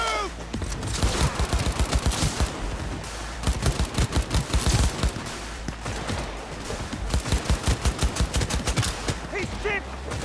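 Gunfire in Cyberpunk 2077 during a combat firefight: dense, rapid volleys of shots fire in repeated bursts for the whole stretch, loud and close.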